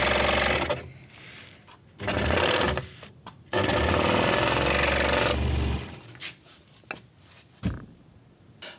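A scroll saw controlled by a foot switch starts and stops in several bursts of mechanical buzzing, loud and close, with short gaps between runs and quieter clicks near the end.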